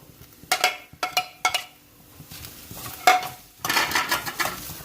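Chicken filling being mixed in a pan for spring rolls, giving a few sharp clinks and scrapes of a utensil against metal in separate bursts, with quiet pauses between them.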